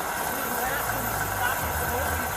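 A car engine idles steadily and fairly loud beside a traffic stop, with a faint rattle riding on the low hum while people talk over it.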